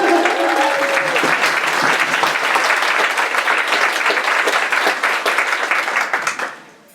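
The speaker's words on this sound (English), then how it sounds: "Give them a round of applause" An audience at an Inuit art event gives a sustained round of applause. The dense, even clapping holds for several seconds and then fades out, with a brief voice at the start.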